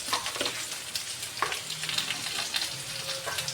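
Home cut steak fries, lightly salted, frying in a pan with a steady close crackle, broken by a few louder pops and brief stirring or shaking noises.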